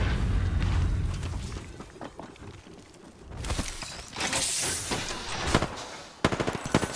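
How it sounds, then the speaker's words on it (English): Heavy gunfire in the battle royale shooter Apex Legends, with repeated sharp bursts and booms spread across the stretch, loud and close, ending in a rapid volley of shots. "Shot fired."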